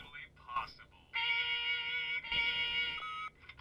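A long electronic answering-machine beep from The Wolf Among Us, a sustained steady tone held for about two seconds, with a brief break and then a second long tone, loud and close after a short burst of voice.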